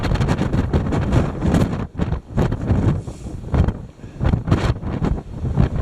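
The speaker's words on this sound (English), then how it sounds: "The wind is very strong." Strong wind gusts buffet the microphone outdoors beside a rock slab among broken and dead trees as a cold front moves in, loud roaring bursts rising and falling in irregular waves.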